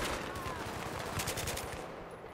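Rapid automatic gunfire crackles in the video game Battlefield 3, a dense burst of shots at moderate distance, steady and continuous throughout.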